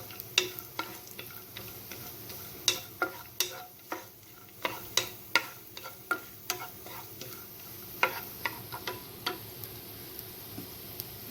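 Cashews, almonds and other dry fruits roast in a pan, marked by a run of sharp, quick scraping and tapping stir strokes over a faint sizzle, some strokes clustered and others spaced apart; no speech.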